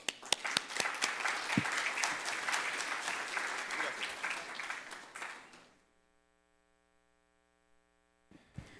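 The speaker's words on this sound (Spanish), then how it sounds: "Un aplauso." An audience applauding a speaker at a talk, sustained loud clapping that swells and then fades out into silence, with a faint stir of movement at the end.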